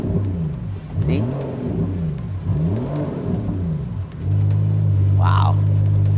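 A Rolls-Royce Ghost engine revs repeatedly in loud mode with its exhaust valves open, rising and falling swells followed by a sustained higher hold, close by, with a voice speaking briefly over it.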